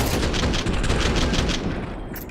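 Rapid gunfire from a Counter-Strike esports match at IEM Katowice 2025, a dense fusillade of repeated shots sustained for about two seconds, loud and close, then tailing off.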